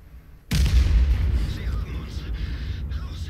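Heavy artillery shell blast in a tank game featuring the Panzer 58 Mutz: a sudden loud boom hits after a short quiet, followed by a rumbling tail and scattered debris noise, with people talking over it.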